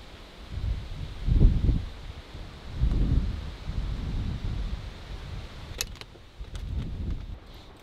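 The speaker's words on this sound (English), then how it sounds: "it's probably easily 20-25 mile an hour, I'd say, wind." Strong gusts of wind, roughly 20–25 mph, buffet a rooftop tent on top of a truck at a campsite, rumbling in uneven surges into the microphone, with faint fabric rustles and light rattles late in the clip.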